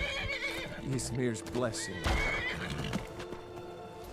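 A horse in a modded Skyrim game neighs with a sharp whinny amid clip-clopping hooves and game ambience, while a voice speaks over it.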